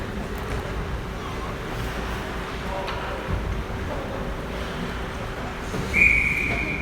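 A short, shrill referee's whistle blast at an ice hockey game, a single clear tone rising above the steady arena crowd murmur near the end.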